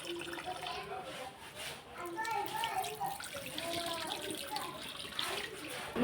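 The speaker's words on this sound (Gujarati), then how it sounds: "બે ત્રણ પાણી કારેલાને ધોઈ નાખ્યું" Bitter gourds being washed in water, with running water and light splashing throughout, close by, while a voice talks over it.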